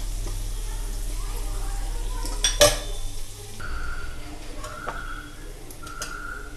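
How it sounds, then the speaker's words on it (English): Garlic cloves fry in oil in a pan for a garlic mutton roast, a soft steady sizzle with a sharp clang of utensil on metal midway and occasional scraping. "Till the garlic cloves releases their aroma. We have to fry them all."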